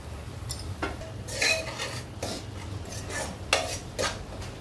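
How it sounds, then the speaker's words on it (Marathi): Masala paste with salt being sautéed in oil, a spoon scraping and clinking against a metal pan in repeated close strokes over a low sizzle. "आपल्याला छान तेल सुटेपर्यंत ह्याला परतून घ्यायचं मसाल्याला।"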